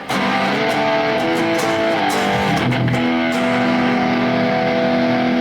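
Amplified electric guitar through a Quad Cortex amplifier model plays a busy, overdriven riff with sustained notes, loud and continuous, with no voices.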